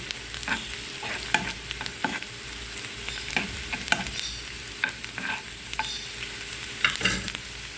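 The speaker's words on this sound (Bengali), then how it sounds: "পেঁয়াজ রসুনটা আমি বাদামি করে ভেজে নেব" Oil sizzles steadily while onion and garlic fry until browned for tempering lentil dal with bottle gourd, with irregular scraping stirs and clinks of a spoon against the pan throughout.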